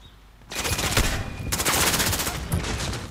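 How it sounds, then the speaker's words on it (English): Automatic gunfire erupts in a Modern Warfare match on PS5, loud sustained bursts of rapid shots starting after a brief quiet and continuing with short gaps, close and harsh, with no talking. "And again, getting shot at."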